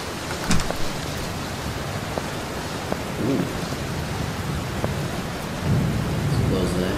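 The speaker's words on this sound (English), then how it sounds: "It's raining out there." Rain and thunder in the video game FNAF 3: Mind Of A Killer: a constant loud hiss of rainfall with low rolling thunder swelling near the start, middle and end.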